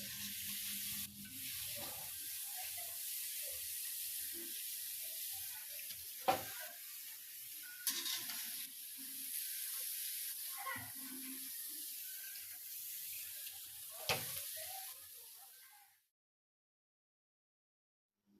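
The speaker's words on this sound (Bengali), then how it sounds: "এরপর একে একে সবগুলো পিঠা ভেজে নিব" Palm pitha cakes deep-frying in oil give a steady close sizzle with occasional louder pops and stirring clinks, ending in silence for the last couple of seconds.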